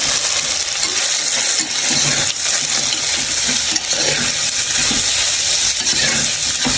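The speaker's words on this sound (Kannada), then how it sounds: "ಇವಾಗ ಮಶ್ರೂಮ್ ಹಾಕೊಂಡ್ಬಿಡೋಣ. ಇದನ್ನು ಸ್ಲೈಸ್ ಥರ ಕಟ್ ಮಾಡ್ಕೊಂಡಿದ್ದೀನಿ ನಾನು." Sliced mushrooms sizzle steadily in a hot pan, a dense continuous frying hiss with occasional scraping from stirring, loud and close.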